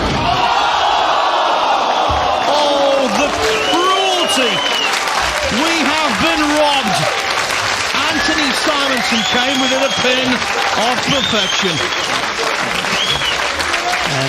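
A bowling crowd at the Weber Cup 2021 rises to its feet, applauding and cheering loudly and without pause after Anthony Simonson's near-perfect game on the lane, while a commentator talks over the roar.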